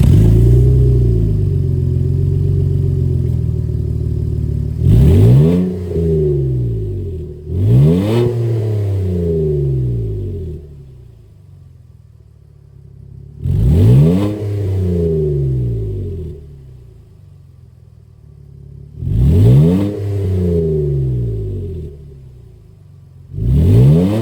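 A 2025 Nissan Frontier with a naturally aspirated 3.8L engine and a Super 44 muffler idles with a low rumble, then revs sharply several times in spaced bursts that climb and fall back, loud and close.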